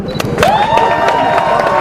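A live crowd cheers and applauds loudly and close, with dense clapping, shouts and sustained tonal whoops filling the short stretch.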